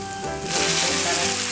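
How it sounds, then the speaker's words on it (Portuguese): Garlic sizzles in a hot pan, a close, dense hiss that swells louder partway through. "Deixa eu dar uma boa fritada no nosso alho."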